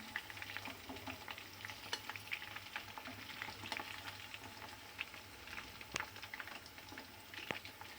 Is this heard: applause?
no